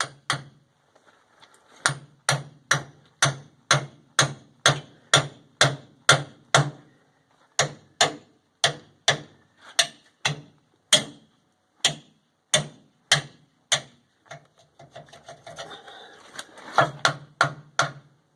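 Steady hammer blows on a rusted receiver hitch to jar it loose, a long series of loud, sharp metallic strikes at a regular beat, briefly irregular near the end, with no talking.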